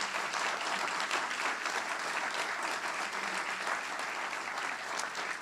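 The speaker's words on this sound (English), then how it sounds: "Give them a round of applause." A large crowd at a corporate service-anniversary event claps in sustained, even applause, loud and dense throughout with no pauses.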